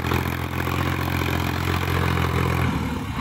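Sonalika DI 50 tractor pulling a loaded trolley, a loud, close diesel engine with steady low chugging and mechanical clatter that holds throughout with no pause.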